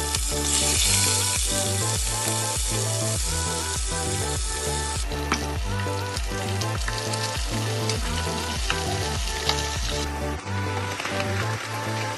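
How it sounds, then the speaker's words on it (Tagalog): Tulingan (bullet tuna) frying in hot oil makes a dense, continuous crackling sizzle under loud rhythmic background music, with no talking. "Iprito ito."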